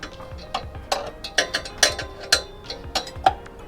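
A hand ratchet clicks in quick irregular bursts while tightening a bolt on a car exhaust hanger, a series of sharp close-up metallic clicks with short pauses between strokes.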